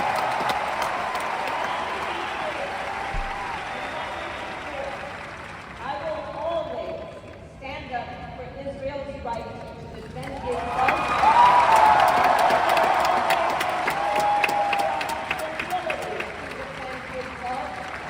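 A large crowd in a political convention arena applauding and cheering, the sustained roar dipping and then swelling again, with a voice speaking through and over it.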